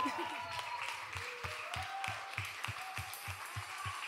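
Steady rhythmic clapping from a church congregation in Verona, an even beat of claps over a busy hubbub with voices, moderately distant.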